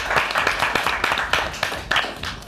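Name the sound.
studio audience applause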